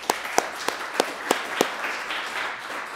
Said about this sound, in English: So a big round of applause for there.